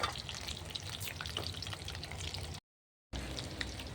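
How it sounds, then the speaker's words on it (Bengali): Beef-fat pakoras frying in hot oil, a steady dense sizzle with crackling pops, close and fairly quiet, cut by a brief silent gap before the sizzle resumes; no talking. "এভাবে পকোড়াগুলো ভেজে নেব।"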